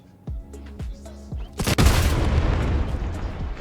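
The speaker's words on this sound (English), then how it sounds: "See how he handles explosions." In the Trailmakers video game, explosions strike armored vehicle parts. A few sharp, rhythmic thuds are followed by one heavy, loud blast whose crackling rumble carries on for nearly two seconds.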